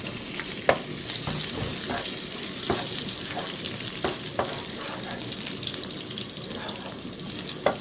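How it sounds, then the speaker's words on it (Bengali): Dried red chilies and garlic frying in oil, a steady sizzle broken by repeated clicks and spoon taps against the pan at irregular intervals. "শুকনো মরিচটা একটু লাল করে ভেজে নিব এখন দিয়ে দিব রসুন"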